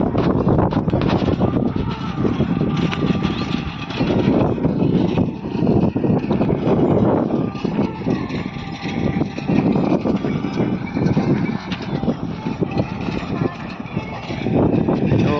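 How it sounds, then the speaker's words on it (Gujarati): A tractor drives a rotavator through a farm field, its engine giving a steady, loud rumble with churning mechanical clatter throughout, while someone talks over it now and then. "આમાં હવે રોટાવેટર હાલે છે"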